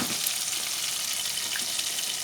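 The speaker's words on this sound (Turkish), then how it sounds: "şöyle kızartıyoruz." Steady crackling sizzle of Turkish dry meatballs frying in hot oil in a pan, close up and continuous, with no voices.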